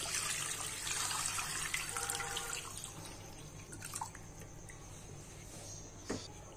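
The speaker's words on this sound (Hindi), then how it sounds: "अब इसमें 2 लीटर के करीब पानी डाल देंगे।" About two litres of water poured into a cooking pot with garlic cloves and ginger pieces for a corn soup, a steady splashing stream running several seconds and then thinning, close by with no talking.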